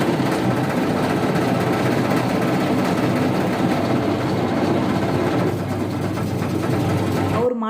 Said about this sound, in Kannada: ಗಾದಿ ಒಳಗಿನ ಹತ್ತಿಯನ್ನು ಇದು ಪುಡಿ ಪುಡಿಯಾಗಿ ಮಾಡಿ ಕರೆಕ್ಟಾಗಿ ಮಾಡುತ್ತೆ